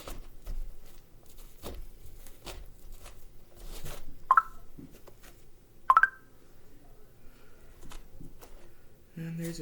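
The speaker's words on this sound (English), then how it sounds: "And there's a text message." Two short bright electronic notification chimes from a phone announcing a text message, a few seconds apart, over soft rubbing and brushing from cleaning soccer cleats.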